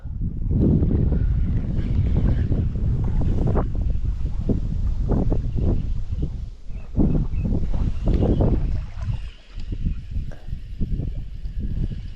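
Gusty side wind on the Dnieper River buffeting the microphone in loud, uneven rumbling bursts, with a faint hiss of water or rustling beneath, no voices.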